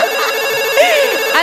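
A telephone rings with a bright electronic ringtone, looping its short melodic pattern loudly and close, with no talk over it.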